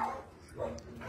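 A big black shepherd-type dog, about eight years old, barks at an animal shelter, a couple of short, moderately loud woofs close by with faint background noise.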